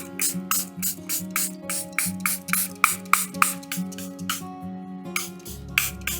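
Repeated short hissing bursts of a Charlotte Tilbury makeup finishing spray, about a dozen in quick rhythm, close and fairly loud over a low steady hum.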